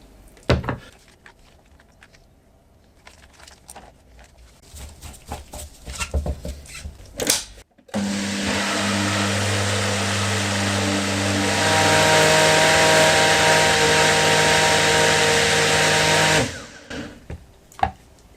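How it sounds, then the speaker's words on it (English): A blender runs loud and steady for several seconds, mixing black garlic hot sauce made with garlic mash, with its pitch shifting partway through, after a stretch of clattering handling noises and brief talk. "try and get it to blend a little bit more"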